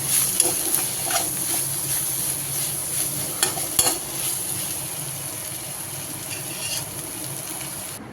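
Coriander and onion with asafoetida being stirred in a pan, soft scraping and light sizzling with a few sharper clinks of the spoon against the metal, steady and close.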